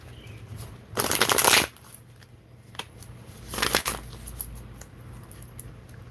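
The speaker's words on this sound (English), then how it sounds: "Should I pull you some cards, Woofless?" Tarot cards riffle-shuffled twice at close range, one long burst of dense papery flutter followed a few seconds later by a shorter one, over a quiet room hum.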